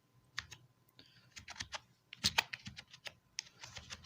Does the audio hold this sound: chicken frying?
no